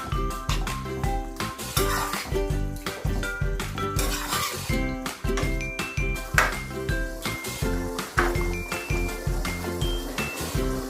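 Metal spoon clinks steadily against a pot while yogurt is stirred into a mutton Shinwari karahi, sharp rhythmic taps repeating close up over a low background, with no talk.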